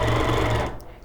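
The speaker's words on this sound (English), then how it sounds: "you can baste it with the machine, and then continue to free motion quilt like you would on your sewing machine" A long-arm quilting machine with a 20-inch throat runs at speed, basting and free-motion quilting, as a fast, steady mechanical whir that is loud and close, then slows and trails off near the end.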